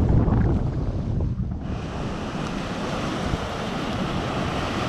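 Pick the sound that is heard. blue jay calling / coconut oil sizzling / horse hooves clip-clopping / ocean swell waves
ocean swell waves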